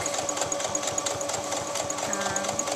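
A sewing machine stitching lining to a dress bodice runs in a fast, steady mechanical patter, close and continuous, with no voice over it.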